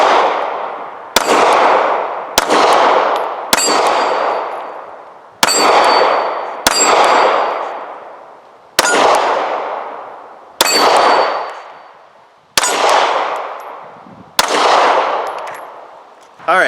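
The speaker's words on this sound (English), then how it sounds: "So let's put a couple more rounds through it." A Sig P365 9mm pistol fires about nine evenly paced shots at steel targets, each sharp report followed by a ringing metallic clang that decays slowly before the next.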